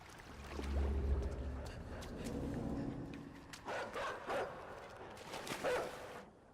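A dog in the video game Inside gives a few short barks in the second half of the clip, over a low, rumbling ambient background.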